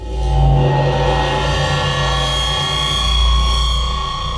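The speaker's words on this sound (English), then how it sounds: "Now I'm going to give it a bunch of distortion from Isotope Trash." A low cymbal recording pitched down and run through distortion in iZotope Trash, giving a loud, gritty metallic wash with a thick rumbling low end and harsh ringing overtones, sustained throughout with no voices.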